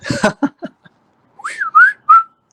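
A person whistles a short sliding tune: several brief voiced sounds first, then a pause and three clear rising and falling whistled notes, close and fairly loud.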